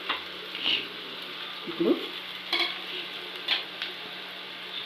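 Curry of rela flower petals stirred and frying in a pan, a steady soft sizzle with a few scraping stirs and a clink, while a voice speaks briefly.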